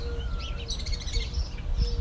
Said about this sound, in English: They're these parrots. They're these, the lovebirds.